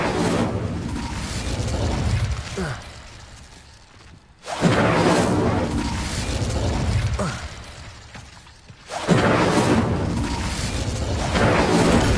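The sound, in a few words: Incendio fire spell cast in a video game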